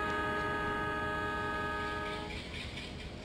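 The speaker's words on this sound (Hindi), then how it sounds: "ये आप लोगों को साउंड भी आ रहा होगा डीजल लोकोमोटिव सबका, जैसे ब्रेक रिलीज करते हैं और शॉर्ट हॉर्न देके डिपार्ट करते हैं यहाँ से" In the Microsoft Train Simulator video game, a diesel locomotive sounds a steady horn for about two seconds at a station. Rumbling engine and rail noise continue underneath, with no speech.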